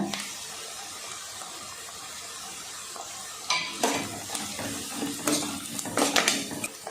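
Onions and green chilies frying in a pan for a chicken dish, a steady sizzle that turns louder after a few seconds with repeated scraping and clinking from stirring, close by and with no voices.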